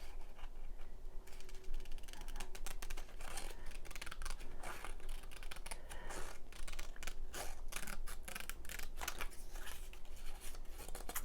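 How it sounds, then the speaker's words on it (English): Tim Holtz scissors snip through paper in a steady run of crisp, crimpy cuts and clicks, close and fairly loud, with no talking. "I do like the noise these Tim Holtz scissors make as well."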